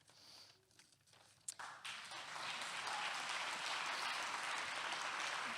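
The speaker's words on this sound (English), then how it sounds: "that won't be the first time you'll applaud tonight" An audience at a college event welcoming Freedom University students and their executive director breaks into sustained, dense applause that swells after a few scattered early claps and fills the room until the end.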